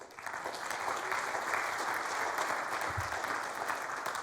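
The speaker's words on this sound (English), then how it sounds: "So I think that deserves a round of applause" A church congregation applauds during a service, a steady, even wash of many clapping hands that sounds somewhat distant and soft and holds at a constant level.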